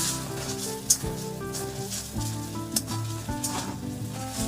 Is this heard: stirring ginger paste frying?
yes